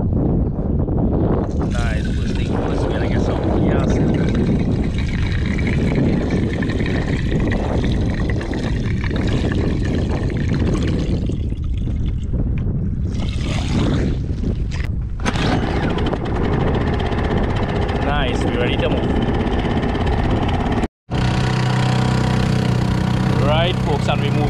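A boat engine drones steadily under gusting wind noise for a long stretch while heading out on the Gulf of Paria, with voices talking over it.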